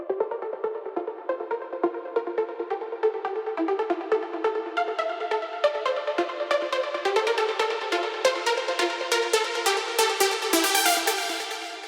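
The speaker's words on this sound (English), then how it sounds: "we have this lead. This is the top layer of the lead." Bright trance lead synth from a Spire saw preset, top layer of an uplifting build toward a hands-up section, playing a steady melodic line of sharp plucky notes that grows brighter and denser, alone without talk.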